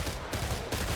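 Rapid bursts of rifle fire from an AK/SCAR combo in the shooter game Killing Floor 3, about three quick loud bursts crammed into one second.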